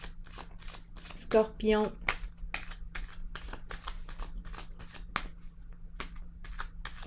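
Tarot cards being drawn and shuffled, a few crisp riffles and slaps standing out briefly over a low steady hum, with a person talking quietly around them.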